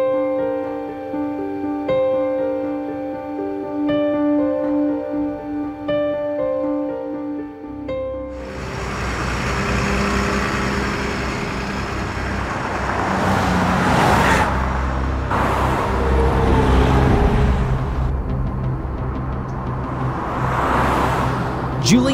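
Cement truck driving on a road in the BeamNG driving simulator: a steady engine drone with a tonal hum at first, then broadband road and traffic noise that swells and surges for the rest of the stretch.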